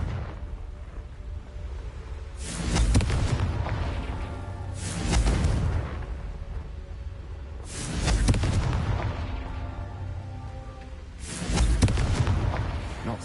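Confringo spell explosions in the video game Hogwarts Legacy, four loud blasts at roughly even intervals, each a booming burst with a rumbling decay, with no talk.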